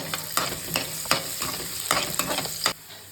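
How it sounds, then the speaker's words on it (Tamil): Ginger and garlic fry in ghee with a steady sizzle, punctuated by rhythmic scrapes of a spoon stirring the pan about every half second, close up and without speech. "நல்லா வந்து இஞ்சியும் பூண்டும் நல்லா பொரிஞ்சு வருது."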